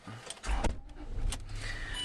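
A Range Rover's air suspension rises with a steady electric whirr and hum inside the car, with a few brief clicks and soft knocks partway through.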